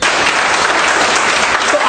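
Dense clapping from a crowd at a Vestige network marketing meeting, steady and loud across the whole stretch, with faint voices mixed in beneath.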